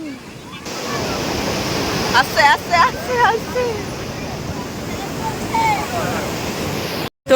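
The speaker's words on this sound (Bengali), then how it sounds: "এবার আসছে বড় ঢেউ" Steady roar of surf and breaking waves close by on Puri beach, with people talking and calling out over it.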